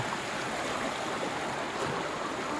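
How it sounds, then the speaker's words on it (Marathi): A large stream of rushing water beside a farm field, a dense, continuous roar with no breaks, loud and close, with no voices over it. "हा एकदम मोठा नाला आहे."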